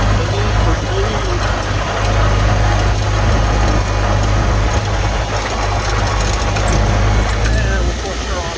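A Farmall Cub tractor engine pulls uphill in second gear through heavy snow, a steady, loud low drone with a constant hum running throughout and no break.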